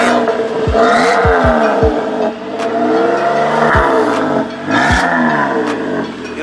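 A Chevy Sport engine fitted with a new Y-pipe exhaust revs repeatedly, each throttle blip rising and falling in pitch, loud and close, with a rumbling idle between pulls and no talking.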